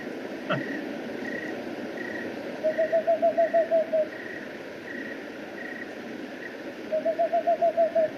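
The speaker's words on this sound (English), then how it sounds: "The whiskered screech owl has like kind of this Morse code call." Whiskered screech owl calling twice in short rapid bursts of evenly spaced hoots, like a string of dots in Morse code, played back moderately loud over steady background hiss with a faint repeating tone.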